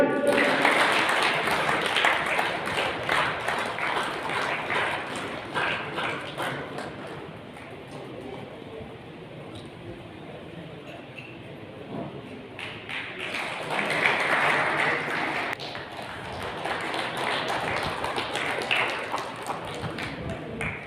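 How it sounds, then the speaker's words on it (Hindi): An audience at a Jat community gathering in a dharamshala in Bhiwani applauds in long waves of clapping, loud at first, dipping in the middle, then swelling again. "ताली बजाएं भाई।"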